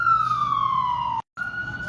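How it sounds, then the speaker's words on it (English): An ambulance siren on a New York street wails in a clear, steady falling tone, breaks off for an instant, then resumes at a moderate distance over low traffic rumble. "sorry, New York, ambulance everywhere"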